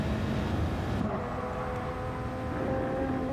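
A steady engine drone hums throughout, a race car engine in a racing video game on the Nürburgring Nordschleife, with a faint tonal whine rising near the end and no talking.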